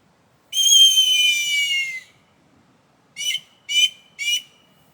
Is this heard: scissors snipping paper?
no